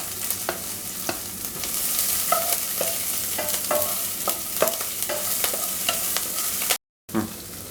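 Ginger, garlic and green chilies sizzling in hot oil in a pan, a steady close frying hiss broken by regular scraping stirs of a spatula, with one brief cut to silence near the end and no talk.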